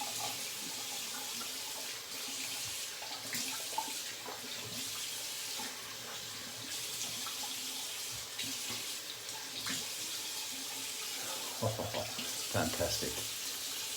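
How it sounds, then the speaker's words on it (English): Tap water runs steadily into a sink while someone rinses off after a straight razor shave with The PLUM razor, a continuous close splashing stream with brief heavier splashes near the end. "Gonna rinse down here."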